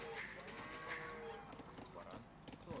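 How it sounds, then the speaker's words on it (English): Cows moo in the Age of Empires II real-time strategy game, several drawn-out lowing calls repeating close by over a dense, busy game soundscape. "These cows are throwing me off a little."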